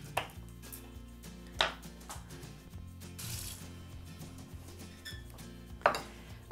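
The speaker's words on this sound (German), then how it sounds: "Jetzt haben wir den Knoblauch und den Ingwer klein gemacht." Knife chopping fresh ginger and garlic cloves on a cutting board, a few sharp distinct knocks at the start, middle and end over a steady background of music.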